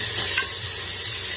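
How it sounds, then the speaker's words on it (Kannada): Peas fry in oil in a pan for a tomato bath, giving a steady close sizzle with a brief stir near the start and no talk. "ಬಟಾಣಿ 2 ನಿಮಿಷ ಬಟಾಣಿ ಎಣ್ಣೆಯಲ್ಲಿ ಫ್ರೈ ಆಗಿದೆ"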